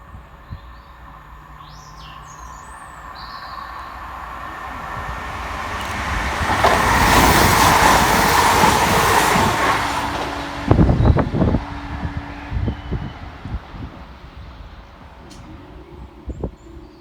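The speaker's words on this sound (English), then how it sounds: "Passing fast in the opposite direction for West Midlands Railway is Tico's beloved 172345" A West Midlands Railway Class 172 passenger train approaches and rushes past Blakedown station with a swelling roar that peaks and fades, followed by clattering wheel thumps; birds chirp faintly around it.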